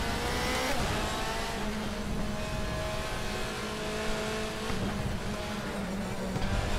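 Race car engines roaring at the Hungaroring in the DTM Experience 2014 racing game, a loud sustained howl with shifting pitch as cars accelerate and jostle in close traffic.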